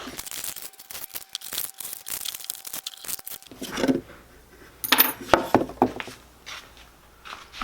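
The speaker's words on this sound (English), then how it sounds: "I need to go ahead and get this paper out of the cigar box." Paper being pulled and rustled out of the inside of a cigar box during a cigar box guitar build, with crinkling, scraping and light knocks against the box, close and fairly quiet in short bursts.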